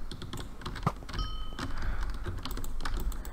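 Computer keyboard typing during a Minecraft Skywars session: quick irregular clicks and key taps close to the mic, with a brief chime partway through.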